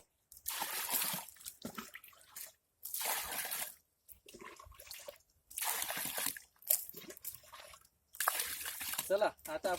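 Waste decomposer solution for composting sloshes and pours in a container, several loud watery bursts separated by short pauses.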